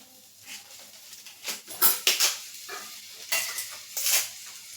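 Asafoetida and dried red chilli hit hot oil with cumin while tempering a dhaba-style dal palak. The fizzing sizzle comes through close, broken by sharp bursts of a spoon stirring and scraping the pan.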